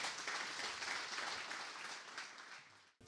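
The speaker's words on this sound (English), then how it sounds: "One more round of applause for Tom." Audience applause ringing out after a talk at a men's ministry gathering, dense steady clapping from a crowd that holds strong for about three seconds before cutting off abruptly.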